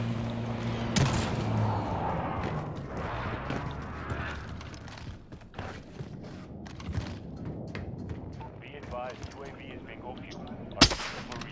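Sniper rifle gunfire in the video game Call of Duty Warzone (Cold War season), a sharp shot early on and another loud report near the end, amid softer in-game thumps and movement.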